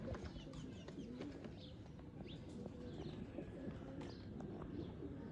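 Pigeons for sale, Sakhi Bhatti bloodline birds, coo softly in the background, with intermittent chirps and rustling over a constant low rumble of ambient noise.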